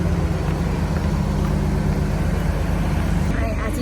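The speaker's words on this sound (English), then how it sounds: "As you can hear by the sounds, we made it to the bus stop." Traffic at a bus stop at Disney's Coronado Springs Resort, with a steady, loud engine hum and road rumble throughout, like an idling bus nearby, and a brief shift near the end.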